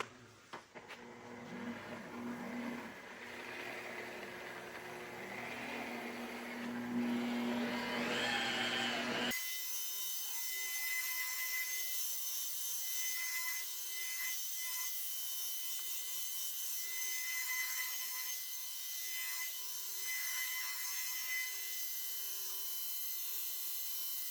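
An aggressive wool pad buffs top-cut compound off the sanded paint of a P51 Mustang warbird, giving a steady, close rubbing whir that continues without a break and with no voices.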